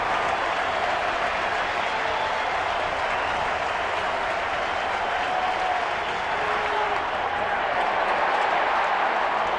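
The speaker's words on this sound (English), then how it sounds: "The sellout crowd standing here in the 8th inning." Sellout baseball crowd at a San Francisco ballpark standing and applauding in the 8th inning, a steady dense roar of clapping and cheering that fills the whole stretch without letup.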